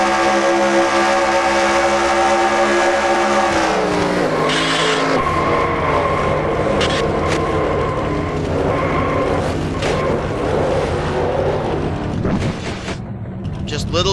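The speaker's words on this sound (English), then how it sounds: "Riding on board with the Red Bull Toyota of Joshua Michaels." Onboard race car in a stock car racing video game, a Red Bull Toyota at Charlotte, its engine roaring loud and steady throughout with pitch shifts as it accelerates and lifts, under continuous commentary talk.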